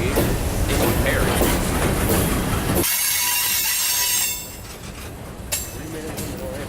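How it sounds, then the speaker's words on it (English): A Norfolk Southern freight train passes close by in Atlanta, Georgia, with loud rumbling wheels, squealing and clinking cars that drop off sharply partway through, leaving quieter rail noise and a brief clank. "And we're getting 2 trains at once."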